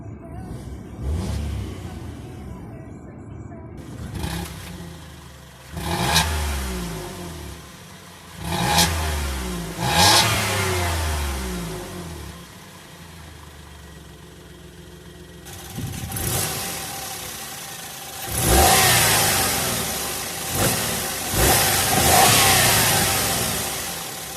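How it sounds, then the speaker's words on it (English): A 2010 Nissan Pixo's 3-cylinder engine revs repeatedly from idle, with several sharp throttle blips rising and falling, then longer, louder revs near the end, heard close from inside the car. "It's not a bad sounding 3-cylinder engine."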